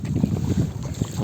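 Coracle paddled quickly toward the shore, the low churn of water and steady rowing rhythm rumbling close under wind buffeting the microphone.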